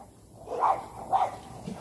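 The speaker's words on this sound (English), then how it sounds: "Ooh, we got some dogs." Two short barks from dogs outdoors, moderately distant, spaced about half a second apart over quiet background.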